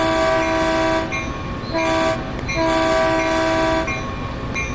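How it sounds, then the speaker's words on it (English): Continuous metallic ringing of a train bell that cannot be switched off, steady repeated strokes holding loud and near throughout alongside rail noise. "We can't turn our bell off though."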